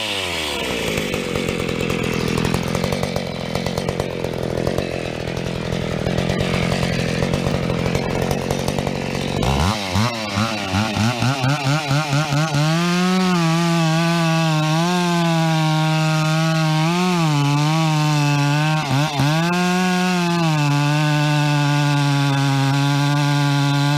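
Chainsaw bucking a log outdoors, a loud continuous engine drone that shifts as the chain bites into the wood, with the pitch settling into a steady labouring whine under load.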